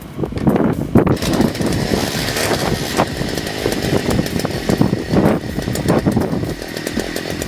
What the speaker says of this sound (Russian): Итак, пуск двигателя произошел успешно.